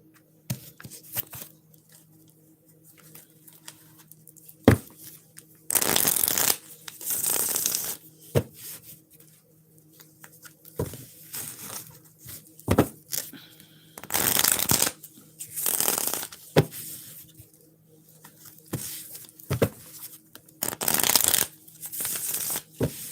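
Tarot cards being shuffled by hand in repeated bursts of riffling and flapping, close and fairly loud, separated by quieter pauses with light handling noises and no talk.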